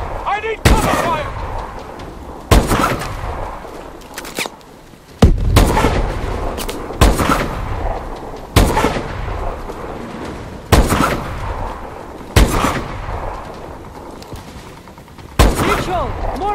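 Gunfire in the Call of Duty: Advanced Warfare campaign: loud, repeated bursts of rifle and machine-gun fire crack every second or two across a noisy battle, with shouting voices mixed in.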